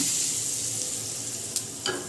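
A tempering of dals, red chilli, curry leaves, mustard seeds and turmeric hisses steadily in hot oil as it is poured into a tomato-coriander chutney, with a couple of faint clinks near the end.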